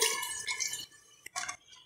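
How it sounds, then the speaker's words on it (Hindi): Water is poured into a pot of chana dal and pumpkin being cooked for a kaddu bhat meal, giving a soft splashing trickle in two quiet bursts with a brief clink between them. "अब हम पानी डाल देंगे"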